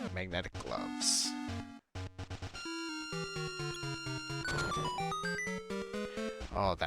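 Zelda: Oracle of Seasons video game audio with the magnetic gloves in use: dense, bright chiptune tones and shifting beeps over game music, with a brief dropout partway through.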